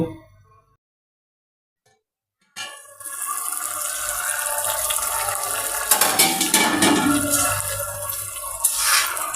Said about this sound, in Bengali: এখন পানিটা ভালোভাবে ঝরিয়ে নেব